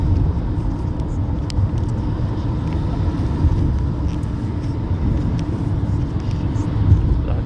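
A 2020 Toyota Corolla Hybrid drives along, giving off a steady low road rumble and tyre noise heard from inside the cabin, with no one talking.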